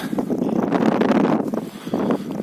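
Loud gusting wind blasting across the microphone in rough, fluttering bursts, close and continuous with brief lulls.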